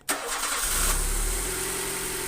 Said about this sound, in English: It's now time to start the car and just prove to you that the car is running